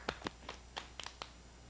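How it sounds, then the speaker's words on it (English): Hands clapping on a 1980 Romper Room children's TV show: about half a dozen sharp, quick claps in an uneven rhythm, fairly quiet and close, with no talking. "Now clap your hands."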